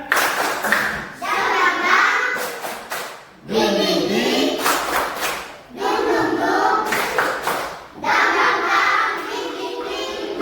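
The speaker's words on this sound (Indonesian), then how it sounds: "Tepuk semangat." Children performing a rhythmic spirit clap in a classroom, bursts of patterned clapping mixed with shouted chanting voices, repeating in several rounds with short pauses between.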